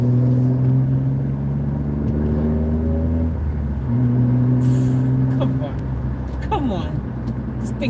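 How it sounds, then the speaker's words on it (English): A car engine drones steadily from inside the moving vehicle, its tone holding, dipping and rising again as it drives, with a few light clicks and knocks toward the end. "this car is such a joy to drive"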